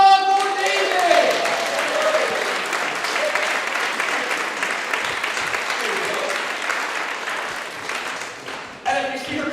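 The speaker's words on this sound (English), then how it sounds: "Big round of applause for Daisy!" Audience applause fills a vaudeville theatre after a performer's trick, dense steady clapping sustained for several seconds with a brief swell near the end and some voices mixed in.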